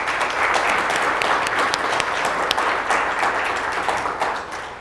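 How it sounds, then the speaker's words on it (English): A room full of people applauds at a conference event in a dense, continuous wash of clapping with sharp individual claps poking through, loud and sustained before easing off slightly at the end. "So please give them a round of applause."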